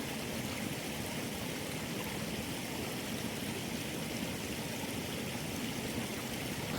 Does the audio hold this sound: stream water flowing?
yes